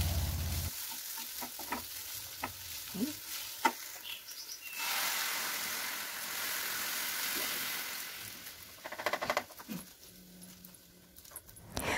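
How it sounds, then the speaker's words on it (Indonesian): Chopped sausage sautéing in a pan for brulee bomb cheese balls, a soft continuous sizzle broken by scattered scraping clicks of a utensil, then a louder burst of stirring near the end. "Selanjutnya masukkan sosis yang sudah kita chop-chop tadi atau sudah kita cincang. Lalu masak sebentar"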